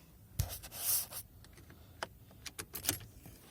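Close, quiet metallic jingles and scrapes of a key being fitted into the ignition of a 2011 Peugeot 207 1.4 SX, a few clicks and rattles spread over a few seconds.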